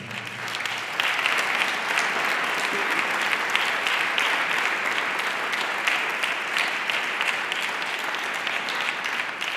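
Warm, dense applause from an audience honoring award recipients at a cultural societies day ceremony, continuous and even for several seconds with no voices over it.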